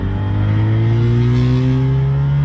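A two-stroke car accelerating on the road, heard loud and close from inside, with an engine drone that rises steadily in pitch throughout.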